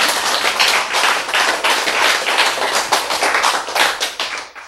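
A congregation at a sermon applauds together. The clapping is dense and continuous at close range, holds steady for several seconds and then tails off, with almost no talk over it.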